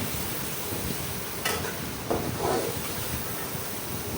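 Spices stirred into mutton pulao in a pan, with a soft hiss and a few brief scraping strokes of a spoon against the pot, close and fairly quiet.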